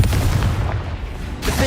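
Confringo blasting spell explosion in the video game Hogwarts Legacy, a heavy booming blast that fills the moment with a low rumble, followed by a second burst near the end.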